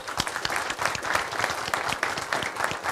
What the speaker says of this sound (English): let's go ahead and do another wonderful round of applause